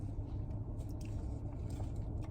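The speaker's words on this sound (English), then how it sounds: "Crispy, a little juicy on the chicken, crispy crunch." Biting into and chewing crispy Popeyes fried chicken up close, soft repeated crunches and moist mouth sounds over a low room hum.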